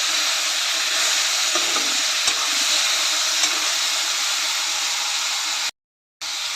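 Bitter gourd pieces stir-fry in a pan with onion and tomato, giving a steady, close hiss and sizzle with a few faint stirring taps, then a short silent break before the frying resumes.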